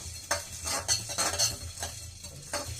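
Whole black pepper and cumin dry roasting in a pan, with repeated light scraping and stirring clinks of a spoon against the metal over a faint, steady background hiss, no voices.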